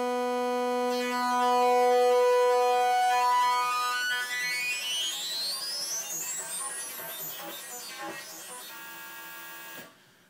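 A Kurzweil PC3 synthesizer pad with a wrap DSP effect holds one sustained key, opening as a steady tone, then sweeping upward into a rising, shimmering swirl of harmonics that fades before cutting off sharply.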